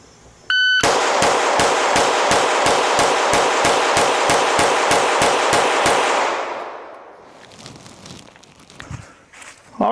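Rapid string of loud, evenly spaced gunshots during a target shooting drill, about twenty sharp reports in quick succession that then stop, leaving quieter ambient noise afterward.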